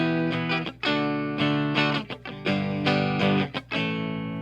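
A Donner DST-550 electric guitar played through its bridge humbucker pickup, with the five-position switch all the way down, rings out in a run of loud, sustained chords and notes with brief stops between them, heard alone.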